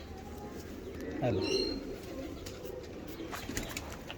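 Paired Teddy breeder pigeons coo nearby in a low rolling call that swells near the start and then settles, while someone briefly speaks.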